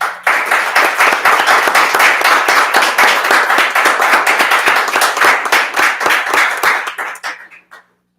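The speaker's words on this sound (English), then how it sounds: "please give this group of board members a round of applause" Audience at a school board of education meeting applauding its board members, a loud, close burst of many hands clapping that holds steady for several seconds before thinning out and stopping.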